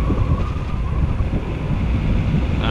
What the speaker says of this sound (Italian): qui stiamo andando contro vento, però l'arietta già ci sostiene un po'.